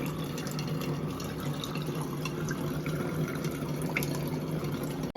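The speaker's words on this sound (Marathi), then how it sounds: "इकडे बघा कशी पाणी पिते" Steady wet sloshing and trickling of water being drunk, continuous and fairly close throughout, with a busy household hum underneath and no speech.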